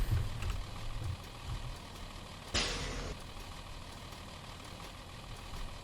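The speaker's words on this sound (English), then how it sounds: "I really like the engine sounds of this bus" A 1993 Carpenter Ford B700 bus idles in the Rigs of Rods driving simulator, a steady low engine rumble throughout with a brief hissing air release midway, no talk.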